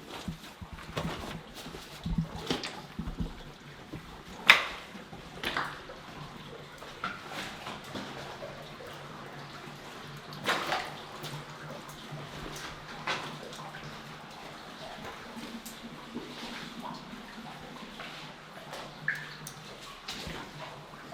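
Steady watery trickling and dripping echo inside a mine on Monte Rosa, with occasional louder splashes and knocks; no voices.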